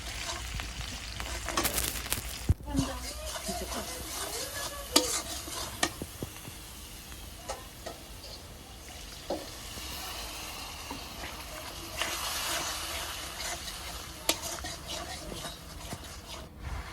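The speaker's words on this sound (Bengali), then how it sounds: "তো আমার তরকারি কষাইতেছে, এটা অনেকক্ষণ ধরে কষানো লাগবে" Vegetable curry of pumpkin and Malabar spinach sizzles in a pot over a clay stove while a utensil stirs it, giving a steady frying hiss broken by scraping strokes and occasional clinks against the pot.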